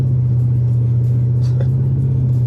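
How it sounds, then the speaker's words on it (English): Steady low exhaust drone from a Lexus LS400 while driving, a constant loud rumbling hum inside the car with no break in level. "I'll wait until the exhaust drone stops"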